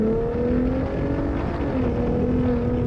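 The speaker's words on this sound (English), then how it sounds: "just threw it in Baja mode, at least with the exhaust, and you give it a good sense of the bark here." A Ford F-150 Raptor's exhaust in Baja mode holds a steady, loud, throaty engine drone from inside the cab, with no talk over it.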